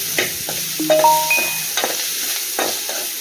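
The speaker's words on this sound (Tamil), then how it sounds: "இப்போ தக்காளியை சேர்த்து நம்ம வதங்க விடலாம்." Onions and tomatoes sautéing in a pan, a steady close sizzle with stirring scrapes, plus a few brief tonal squeaks from the utensil or pan early on.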